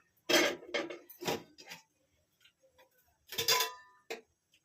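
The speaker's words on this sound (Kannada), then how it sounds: "ಒಂದು ಪಾತ್ರೆ ಇಟ್ಟಿದ್ದೀನಿ ಒಗ್ಗರಣೆ ಮಾಡ್ಕೊತಾ ಇದ್ದೀನಿ" A metal cooking pot is set on a kitchen stove before tempering, giving several close, sharp clanks and knocks in short bursts separated by quiet gaps.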